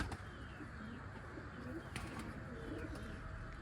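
Indian Zakh pigeons coo softly outdoors over a steady, noisy background hiss, with faint wing flaps and chirps mixed in.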